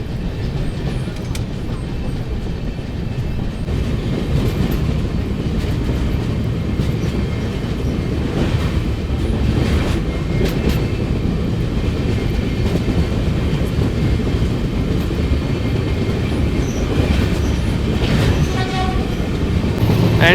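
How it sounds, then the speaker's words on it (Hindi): The Janmabhoomi Express, a push-pull train, crosses the Godavari river bridge with a continuous loud rumble and rhythmic wheel clatter as it speeds up. A horn and faint squeals ring out over the din. "एंट्री हुई थी ब्रिज पे एकदम स्लो स्लो, और अभी देखो बढ़िया स्पीड अप कर लिया है ट्रेन ने"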